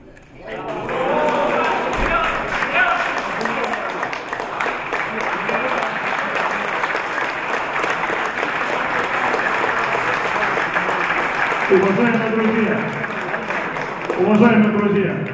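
Audience applause fills a grappling match hall for a third-place bout, steady clapping across the whole stretch with crowd noise and some speech mixed in, plus a brief thud early on.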